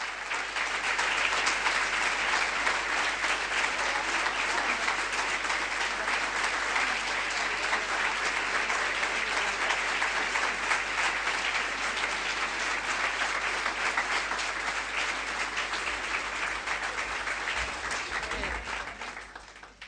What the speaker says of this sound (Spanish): Estos aplausos son para Virgen María y para Dios